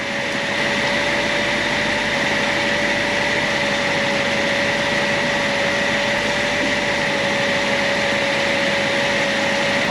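A steady, loud engine drone with a constant whine and hum, unchanging throughout, from a BMW X5 (E70) idling up close during a transmission service.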